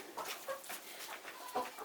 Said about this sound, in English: Would you like to come in, lone chicken? Come get some food.